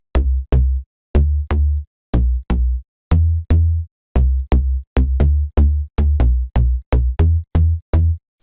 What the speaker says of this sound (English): Bass hard is really punchy and sounds like this.